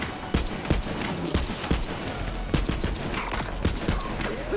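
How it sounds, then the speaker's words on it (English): Gatling gun gunfire in Borderlands 3, a rapid fusillade of sharp shots with heavy booming impacts repeating steadily over a dense, noisy game soundscape. "Maybe the Gatling gun will do."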